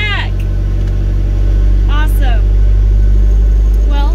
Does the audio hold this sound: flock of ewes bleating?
no